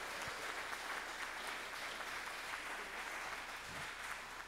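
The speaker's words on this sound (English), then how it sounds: "Round of applause." Audience applause at a high school spring concert, a faint, distant wash of clapping that holds evenly for several seconds.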